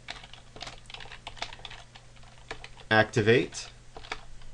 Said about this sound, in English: I'm having a real hard time typing today.